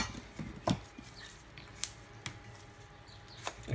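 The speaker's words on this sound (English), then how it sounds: "And you'll hear the string kind of makes a click noise." Butcher's string clicking while a knot is tied around a stuffed pork belly: a few faint, sharp ticks and soft rustles spaced irregularly over quiet room noise.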